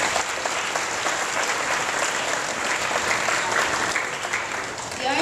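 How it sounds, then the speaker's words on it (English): Graduates and audience at a grade school graduation ceremony applaud in a dense, steady burst of clapping that holds loud and even from start to finish, with faint crowd murmur mixed in. "Let's give ourselves a round of applause."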